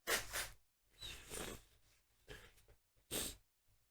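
Several breathy, noisy bursts of nose blowing, close and fairly loud, with short pauses between them and no talking.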